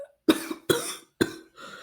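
A voice imitates someone coughing up water, giving three sharp, close coughs spaced by short silences, followed by a softer breathy trailing sound.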